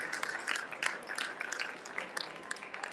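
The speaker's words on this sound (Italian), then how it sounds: "l'applauso e il saluto di Michele Dalfarra." An audience inside the Longarone fair hall claps steadily to welcome a speaker at a Giro d'Italia 2023 event, a dense, even patter of hands with sharper individual claps standing out.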